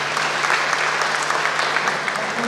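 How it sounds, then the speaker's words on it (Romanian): An audience at a school year opening ceremony gives brisk, continuous applause, a close, dense clatter of many hands at a steady volume throughout. "Aplauze, vă rog!"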